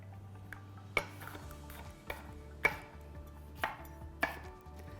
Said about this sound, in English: I'm just gonna go through and cut them into little strips